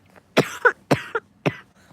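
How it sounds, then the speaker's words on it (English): Three harsh coughs from a sick person, each a sharp burst with a short rasping tail, spaced evenly over two seconds, close and fairly loud. "I'm gonna cough again."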